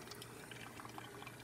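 A De'Longhi PrimaDonna Deluxe coffee machine siphons water through its milk system, giving a steady, quiet bubbling and gurgling wash with small irregular pops throughout.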